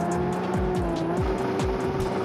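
A Nissan car engine in a mobile racing game roars loud and close, its pitch climbing through repeated rapid gear shifts, with tire squeals mixed in.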